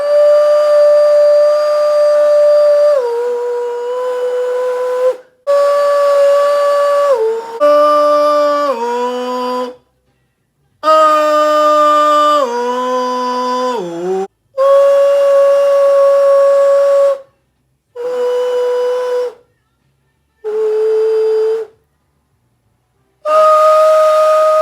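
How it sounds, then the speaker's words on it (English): Steady pure tones at shifting pitches, stepping up and down in sustained blocks with short silent gaps between them, loud and clear, used to make rice grains vibrate and move. "Look how the rice moves differently when I use a different pitch or tone."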